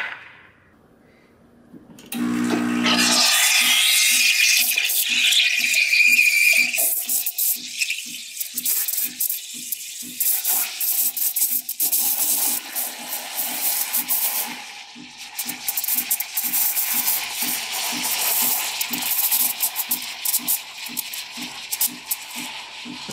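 A MiiCoffee Apex espresso machine's steam wand hisses steadily and loudly for over twenty seconds after a short quiet start, with a faint regular ticking pulse running underneath the rushing steam.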